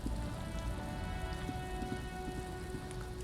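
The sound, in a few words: rain in Disco Elysium video game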